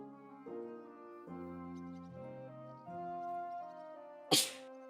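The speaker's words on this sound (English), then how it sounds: "I have to sneeze." A single sharp sneeze bursts out near the end, loud and close, following sustained soft musical tones.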